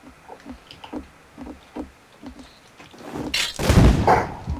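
Hand cannon gunshots in the video game Rust: a series of sharp, fairly faint shots at irregular intervals, followed by a louder, rougher burst of noise near the end.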